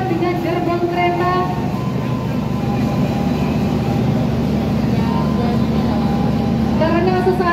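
The Argo Bromo Anggrek passenger train sits at the platform before departure, its locomotive giving a steady, loud low rumble with sustained tonal hums and faint crowd murmur.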